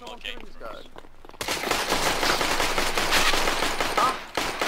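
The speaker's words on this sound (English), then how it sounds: "Everybody stop to snipe with the Glocks." Glock pistol gunfire in Counter-Strike: Global Offensive crackles in a dense, continuous burst of overlapping shots after a quiet start, loud and close, with players talking.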